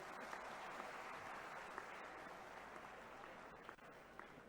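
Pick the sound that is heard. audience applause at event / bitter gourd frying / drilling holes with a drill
audience applause at event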